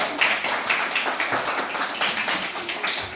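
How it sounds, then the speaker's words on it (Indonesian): A class claps for a group discussion's results, producing close, fairly loud, slightly uneven rhythmic hand claps throughout. "Baik, tepuk tangan untuk hasil diskusi kelompok 1."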